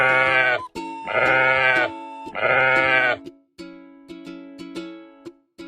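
Sheep bleat three times in long, loud, wavering cries, followed by a quieter stretch of light clattering and rustling as the flock runs, no talk.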